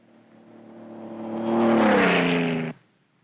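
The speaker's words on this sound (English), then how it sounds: "The roar of the engine is the only sound to break the desert silence." A car engine in the desert swells into a loud roar, pitch rising then dipping as it passes close, then cuts off abruptly into quiet.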